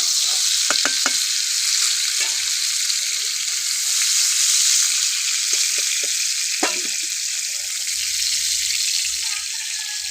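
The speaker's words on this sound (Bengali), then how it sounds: "ফুলকপি আমি ভাজা হয়ে গেছে" Cauliflower fries in a pan of oil with a loud, steady sizzle that lasts throughout, broken by a few sharp scraping clicks of stirring near the start and middle. No voices are heard.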